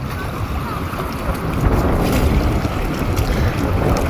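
Strong, steady wind roaring across the Bow River in Calgary during rafting, a continuous low buffeting rumble with no clear voices.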